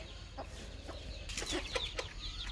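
Chickens, including two hens sitting on eggs, give soft intermittent clucks in a farm coop, faint and scattered over a low background hum, no talking.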